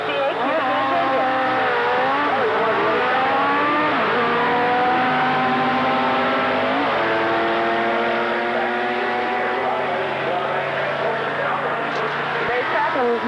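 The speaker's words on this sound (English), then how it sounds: "This car's a 1969 Camaro with a 468 cubic inch engine." A 1969 Camaro race car with a 468 cubic inch engine roars continuously at a drag raceway in the early 1980s, its engine note rising and shifting through revs, loud and close, while an announcer talks over it.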